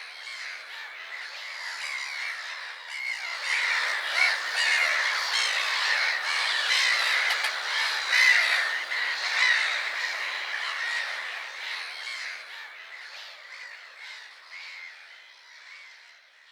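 Gulls by the ocean cry in a dense, overlapping chorus of harsh squawks, swelling louder in the middle before thinning toward the end, with no voices.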